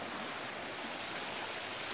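A river flows right behind a house, with clean water over a sandy bed, heard as a steady, even rush of moving water, fairly faint and unbroken with no voices.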